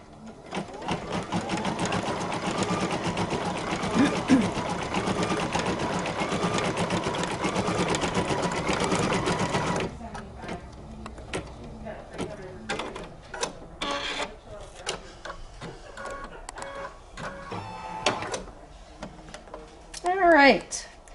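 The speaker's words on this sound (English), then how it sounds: "we'll start our machine just for that short decorative stitch" Embroidery sewing machine stitches a short decorative stitch, a rapid continuous mechanical whir for roughly ten seconds, then stops, leaving scattered handling clicks and taps.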